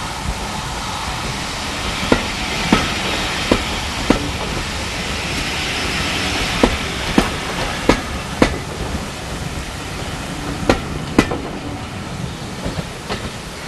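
A heritage train runs from Pickering to Whitby on the North Yorkshire Moors Railway, carriage interior full of steady rumble and hiss, punctuated by irregular sharp clacks of wheels over rail joints, loud and close.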